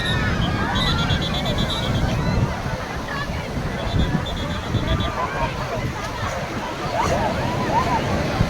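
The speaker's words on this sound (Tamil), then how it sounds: "அலையின் தாக்கம் அதிகமாக உள்ளது" Sea waves washing onto the beach at Thiruvananthapuram, a steady broadband rush of surf mixed with wind buffeting and a distant murmur of crowd voices throughout.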